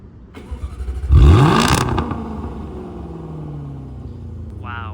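A Jaguar XE SV Project 8's supercharged V8 starts close by with a sharp crank and a loud flare of revs, then drops into a steady, deep idle.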